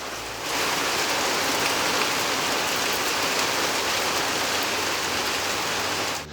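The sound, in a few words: rain falling on a gazebo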